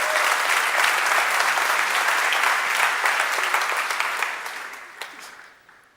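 A church congregation breaks into loud, dense applause during a Spanish-language service. It holds steady, then tapers off and fades away over the last seconds.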